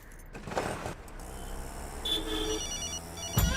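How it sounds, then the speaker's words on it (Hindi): A mobile phone rings with an incoming call while a man rides in an auto-rickshaw near a train, its electronic ringtone sounding in short bursts amid traffic and vehicle noise. "फिर से फोन कर रही है।"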